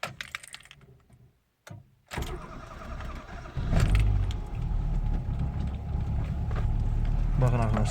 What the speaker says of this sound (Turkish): bir marş basacağım gazda